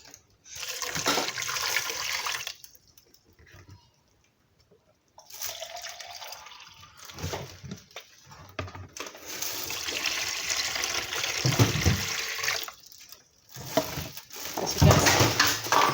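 Water splashes and trickles steadily into a pot holding dates, in a few separate pours of about 500 ml total with short pauses between them, fairly close and without talk.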